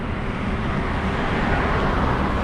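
Dense road traffic during a bike ride toward a waterfall produces a continuous low rumble of engines and tyres, steady and loud throughout.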